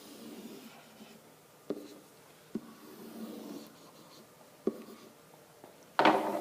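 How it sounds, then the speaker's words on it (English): A pen or pencil scratches softly while graph axes are drawn by hand, with faint strokes broken by a few light taps and a brief louder rustle at the end. The sound is quiet and close. "we need to draw our axes."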